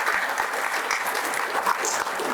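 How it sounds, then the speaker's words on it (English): Steady applause from a seated audience welcoming a chief guest at a VIPS institutional event, continuous clapping throughout, fairly even in level, with no clear voices over it. "Everyone sitting at the back should give big applause for Azhar Shahid"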